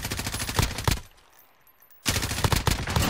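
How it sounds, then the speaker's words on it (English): Rapid automatic gunfire in Call of Duty Modern Warfare, loud and close in two sustained bursts split by a one-second gap, with no talking over it. "I'm taking fire!"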